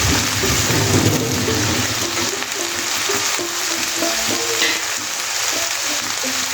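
Grated ginger hits hot oil in a pan for chilli chicken, giving a loud, continuous sizzle with stirring and scraping that carries on for several seconds without any speech.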